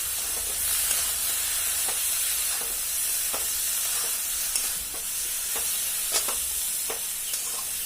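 Eggplant and potato curry sautés in a pan with a constant bright sizzle, punctuated by regular taps and scrapes of a spoon stirring, close up and without speech.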